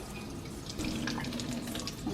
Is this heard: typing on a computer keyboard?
no